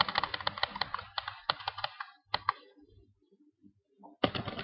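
Quick bursts of typing on a computer keyboard in Microsoft Word, close and crisp clicks in rapid runs, broken by short pauses and a quiet gap before a final flurry of keystrokes.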